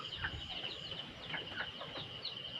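Chickens, including a red hen offered for sale, give soft, repeated clucks and short calls at a moderate distance over low background noise, with no talk.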